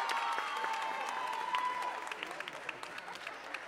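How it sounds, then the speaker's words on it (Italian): Applause from an audience at an ice skating gala in Covo, fairly faint and distant, with scattered claps thinning out toward the end while a steady tone lingers beneath. "un fortissimo applauso ancora"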